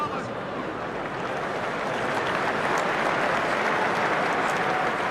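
Steady, dense applause from a large rugby stadium crowd, loud and continuous throughout, with a faint rise toward the end.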